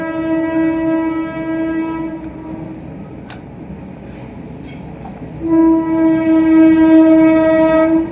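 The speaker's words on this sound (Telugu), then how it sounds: "పక్కన ట్రైన్ సౌండ్ అయితే వినిపిస్తుంది," A train rumbles past with a loud, sustained horn blaring at the start and again near the end, over steady rolling noise.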